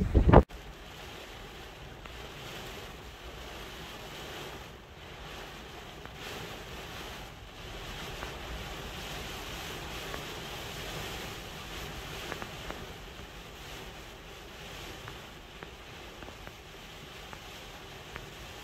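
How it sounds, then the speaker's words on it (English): Heavy storm wind and waves on a beach as a heavy rain band passes with gusts around 25 mph, a constant roaring rush with buffeting surges, close and unbroken throughout. "this latest rain band is coming through. It is heavy, and the winds are gusting to about 25 miles an hour"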